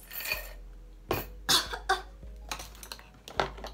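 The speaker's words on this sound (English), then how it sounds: "that made me cough." A few sharp coughs and throat-clearing bursts close up, irregularly spaced, with faint clinks of small objects in between.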